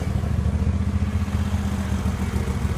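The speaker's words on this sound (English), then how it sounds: "PTO shaft sounds like it's about to jump out of the mower." A Jacobsen Turfcat 60 mower runs with a failing PTO shaft, giving a loud, continuous, close engine rumble with a rough, pulsing clatter throughout.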